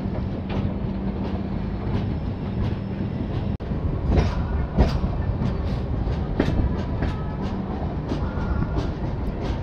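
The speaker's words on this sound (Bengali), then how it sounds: "একেবারে on time train Khurda road enter করছে।" Dhauli Superfast Express rolling into Khurda Road junction, a steady rumble with rhythmic clickety-clack of wheels over rail joints and occasional sharper clanks, heard from inside the moving train with no talking.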